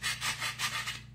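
A sanding block rubs back and forth across the painted wooden roof of a birdhouse, giving about four quick, close scratchy strokes in a steady rhythm at a fairly soft level.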